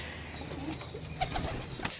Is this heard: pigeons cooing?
yes